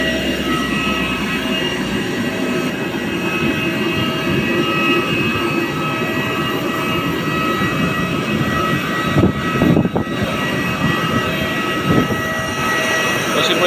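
An airplane's engines give a constant, steady roar with no break, heard from inside or nearby, while faint voices and a couple of knocks show up partway through.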